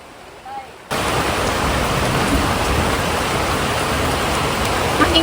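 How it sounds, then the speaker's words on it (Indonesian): Heavy rain comes in abruptly and strengthens into a dense, steady roar of downpour on surfaces, loud and close, after a brief quieter moment. "Makin gede hujannya, makin besar ya kayak hujannya."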